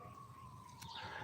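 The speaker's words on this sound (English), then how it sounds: "you might be able to hear some sirens in the background and the birds chirping." A faint, distant emergency siren holds a steady wail in the outdoor background over low ambient rumble.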